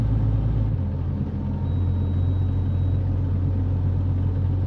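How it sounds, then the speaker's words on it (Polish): A 2009 Deutz-Fahr Agrotron L720 tractor with a 205 hp six-cylinder turbo engine idles steadily nearby, giving a deep, continuous low rumble with a thin high whine above it and no talk. "6 cylindrów z turbiną, silnik."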